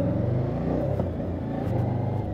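Suzuki V-Strom 1050 two-cylinder motorcycle engine accelerating smoothly, a steady loud low rumble and drone held throughout without pauses, heard from close by with no talking.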